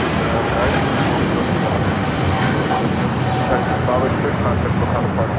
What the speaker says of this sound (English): This is China Eastern Airlines 586 taking off to Shanghai on a 777-300ER.